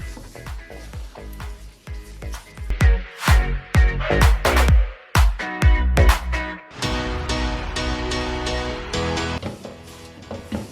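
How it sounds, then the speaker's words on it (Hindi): Semolina halwa cooking over a low flame while a spoon stirs it, with a run of sharp scraping and knocking strokes against the pan, then a softer continuous sizzle and rustle of the dry mixture. "और इसे 3 से 4 मिनट मुसलसल चम्मच हिलाते हुए दोबारा पका लेंगे।"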